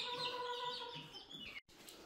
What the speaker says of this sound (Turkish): Şurada da bir tavuk vardı lan